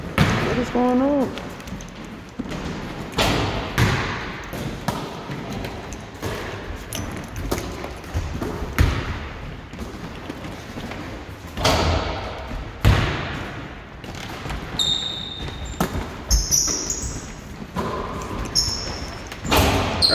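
Basketballs thud repeatedly on a gym floor during shooting drills, with irregular bounces and rim clangs heard throughout while a coach calls out instructions over the action.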